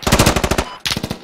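Rapid automatic gunfire rattles in the military shooter game Squad, a close, loud burst of about eight shots, then a brief pause and a second shorter burst.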